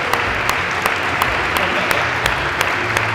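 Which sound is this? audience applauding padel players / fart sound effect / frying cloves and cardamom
audience applauding padel players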